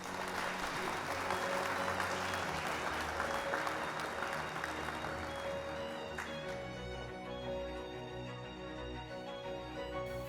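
Sustained applause from a seated audience at an academic conference session welcoming the moderator, a Cheongju University professor, as dense even clapping that fills the hall steadily before easing slightly near the end.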